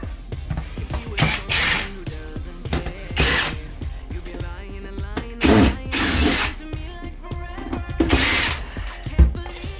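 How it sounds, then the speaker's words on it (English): Power drill boring a couple of core holes for ventilation during a services cupboard floor replacement, with several loud bursts of whirring drilling separated by short pauses, close to the mic. "That's right, a couple of holes are drilled. A couple of core holes."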